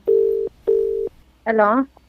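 Telephone line tones after a call cuts off: two steady, identical beeps in a row, each about half a second, followed by a brief harmonic voice-like tone, clear and close.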